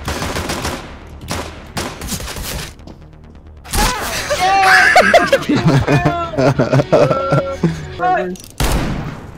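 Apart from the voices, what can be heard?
gunfire in a video game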